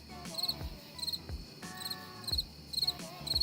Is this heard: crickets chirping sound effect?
yes